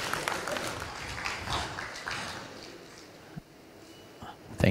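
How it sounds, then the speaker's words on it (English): An audience applauds at a Uganda–Tanzania investment conference, a broad burst of clapping that starts strong and gradually thins out, with some voices mixed in. "A round of applause, please"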